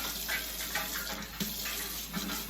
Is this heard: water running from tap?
yes